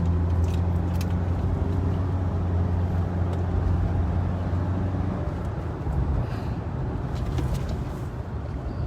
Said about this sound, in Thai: จี้เข้าไปเลยแล้วเบรกแตะเบรกเนาะ